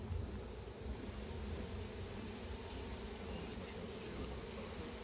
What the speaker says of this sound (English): the smoke kind of scares the bees back down into the hive.